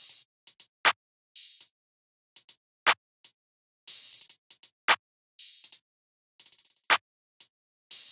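Open hi-hat pattern built from a short 8s sample in a trap beat, bright sizzling hits in quick bursts and stuttering rolls, some sustained and some clipped short, dry and alone without other instruments.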